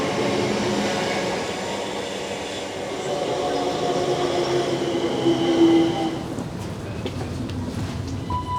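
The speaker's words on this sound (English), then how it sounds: "welcome inside one of the strangest train interiors, in my opinion" Continuous rumbling of a moving passenger train bound for Dartford, heard from inside the carriage, a close steady roar with faint wheel noise and a brief squeal.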